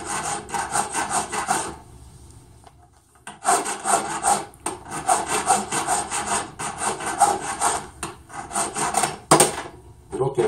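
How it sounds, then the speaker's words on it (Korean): A hand file works the outer surface of a metal ring at a jeweler's bench, close rhythmic rasping strokes in quick regular runs with a couple of short pauses between sets. "왼쪽에서 오른쪽으로 이렇게 줄 작업을 해주게 되는 것이죠"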